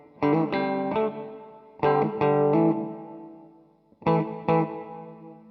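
Electric guitar through a Cuvave reverb pedal on its room setting, decay at midpoint and mix low: three strummed chords ring out in turn, each followed by a short, tight ambient tail, with no talking.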